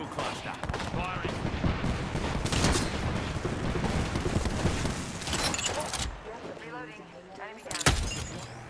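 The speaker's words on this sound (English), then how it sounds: "Launching me knuckle cluster. Firing." Rapid bursts of gunfire and explosive pops from a knuckle cluster launched and firing in Apex Legends, loud and sustained with a few sharp peaks, with voices talking over the action.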